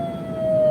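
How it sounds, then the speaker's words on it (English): Brief wail of a fire truck siren on a treasure-seeker ride-along, a single steady rising tone heard from nearby and alone. "Hit the sirens."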